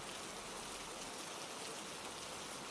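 Heavy rain pours at night, a dense, even hiss of falling water spread steadily across the whole stretch, fairly soft and without any voices.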